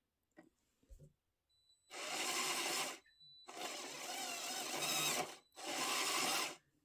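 A LEGO drive motor runs a working Gresley conjugated Walschaerts valve gear mechanism through a differential, producing three separate bursts of buzzing, whirring motor noise with short pauses between them.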